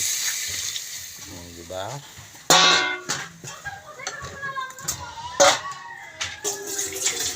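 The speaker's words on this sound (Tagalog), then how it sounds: "pagkatapos niyan, lalagyan ng tubig. Tingnan mo, tubig. Na 1 drum na tubig." Water poured into a drum, splashing and filling in bursts with a sharp onset partway through, while a person speaks briefly over it.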